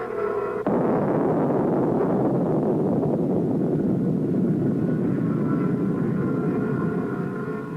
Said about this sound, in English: The buzzing sounds over the Earth noises are from helicopters flying overhead.